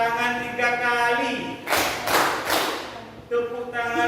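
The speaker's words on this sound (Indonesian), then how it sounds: "tepuk tangan 3 kali" A classroom of pupils claps in unison on the teacher's count, giving a short burst of two or three sharp claps in the middle, with background chatter and voices around it.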